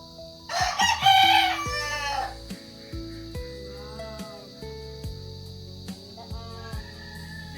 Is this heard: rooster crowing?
yes